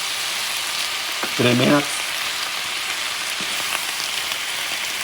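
Sliced white onion, green onion and carrots stir-frying in a pan, giving a loud, continuous broadband sizzle throughout, with a voice speaking briefly over it near the start.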